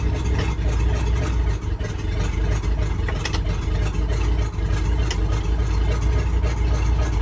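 An old, abandoned International truck engine idles a little low, a steady, loud, rumbling drone that runs throughout without a break.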